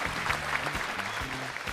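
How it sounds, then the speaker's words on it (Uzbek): Studio audience applause at an Uzbek television game show, dense steady clapping that fills the short stretch at an even level, with a low musical tone running underneath. "Olqishlaringiz"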